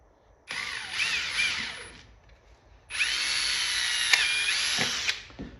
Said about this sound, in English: I always drill my hole big into plexiglass so that the screw doesn't crack it.